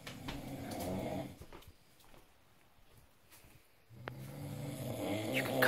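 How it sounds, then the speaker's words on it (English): A person snoring in a bunk bed at night in a shared sleeping area on a night trek in Wales, with two long, loud rasping breaths separated by a quieter pause, recorded close by. "this is snoring"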